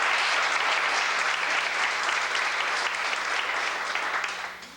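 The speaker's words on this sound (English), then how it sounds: "Let's give them all a round of applause." A crowd claps steadily in sustained applause that carries on for several seconds before fading out at the end.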